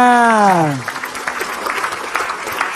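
Studio audience clapping on a televised Islamic talk show, a sustained crowd patter that rises right after a sung or sustained voice note fades, continuing steadily to the end.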